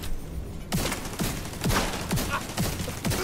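Rapid bursts of automatic fire from a Scorpio gun in a video game, several sharp volleys in quick succession, loud and close.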